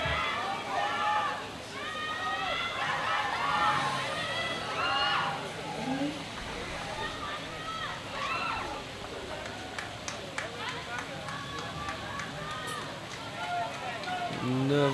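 Scattered high shrieks and whoops from the crowd at a sepak takraw match between Malaysia and Laos, rising and falling over an ongoing murmur of the arena, with a voice talking over them.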